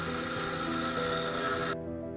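A saw cuts a chunk of DOM steel tubing, 1 inch inner diameter, clamped in a vise, giving a continuous harsh rasping grind, close and loud, that cuts off abruptly near the end.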